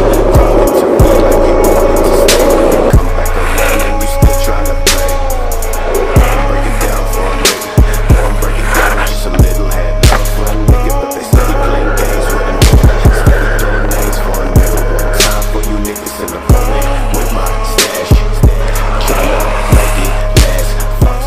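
A skateboard on These 327 ATF wheels in 80a and 82a rolls continuously with a steady low hum, broken by periodic clacks and thumps from cracks and pushes along the pavement.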